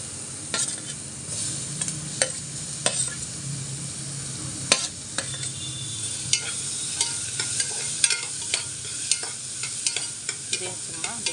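Chopped tomatoes sautéing in ghee in a pan for chicken soup, a continuous close sizzle with frequent stirring scrapes and taps throughout.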